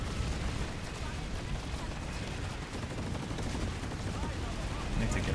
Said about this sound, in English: I'm getting shot from the other side.